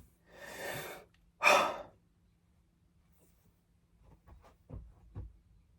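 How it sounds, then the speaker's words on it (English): A person takes two deep breaths, a long inhale followed by a stronger exhale, up close in a quiet room, then softer breathy sounds trail off. "I'm going to breathe in."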